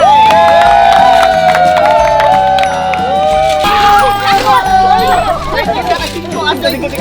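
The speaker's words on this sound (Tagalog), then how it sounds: "Isang palakpak para na Cube 9!" A crowd cheers, whoops and shouts continuously at a games event held at Cube 9 Resort and Spa, loud and lively with bright, rising vocal calls throughout.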